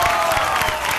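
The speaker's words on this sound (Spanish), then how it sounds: "le damos un aplauso a Leo Rey" A television studio audience applauds for Leo Rey, a short burst of loud, dense clapping mixed with crowd noise.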